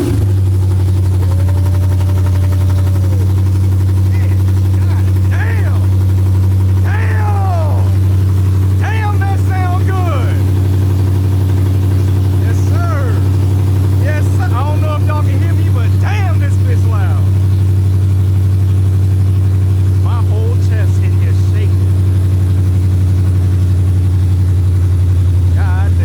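Dodge Challenger R/T fitted with JBA long tube headers, a loud, deep, steady idle rumble held throughout with a couple of light revs, while several people talk and exclaim over it.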